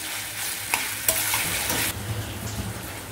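Chutney sizzling and cooking in hot tempering oil with onions on a stove set to low heat, a steady frying hiss broken by a few sharp stirring scrapes.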